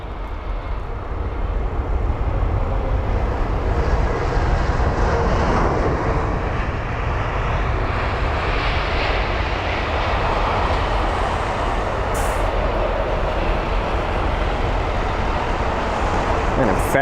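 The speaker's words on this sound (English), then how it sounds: "let's see where smooth this landing is going to be." An Airbus A350-900 jet landing at London Heathrow, a continuous loud engine roar and rushing rumble holding steady for the whole span, heard from the airfield surroundings with no clear talking.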